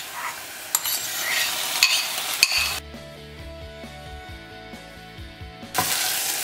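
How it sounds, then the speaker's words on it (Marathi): Prawns frying with onions in a pan, a Goan prawn and green mango curry in progress: a broad sizzle with scraping stirs at the start and end, and a quieter middle of clinking pan noises. "सुंगटां आमी फॉर 1 मिनिट हितून फ्राय करूया कांद्यान."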